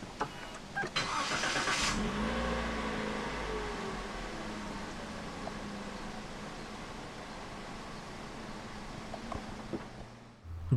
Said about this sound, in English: Put your foot on the brake and press the start button to the right of the steering wheel.